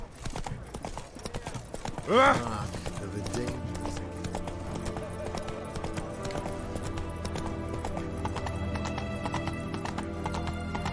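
Roach the horse gallops in The Witcher 3 with a fast, steady clip-clop of hooves, a short neigh rising early on, and people talking over the hoofbeats.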